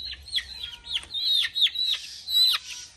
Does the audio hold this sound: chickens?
yes